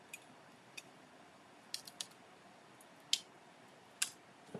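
Scissors cutting a red gift bag during deconstruction, a handful of sharp, isolated snips and clicks spaced irregularly, close but faint over a quiet room.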